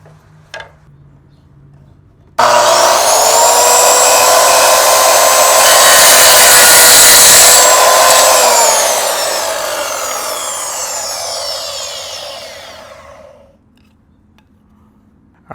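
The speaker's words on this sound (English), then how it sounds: "now I'm gonna go to my miter saw and then cut a straight line down here" A miter saw spins up with a sudden loud whine, bites through a piece of wood for several seconds, then winds down and fades to quiet, heard up close with no talk.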